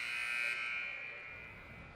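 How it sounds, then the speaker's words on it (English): A basketball game buzzer at a women's college game, one sustained electronic tone that sounds loud, then fades and ends after about a second, leaving faint arena noise. "Buzzer has rang."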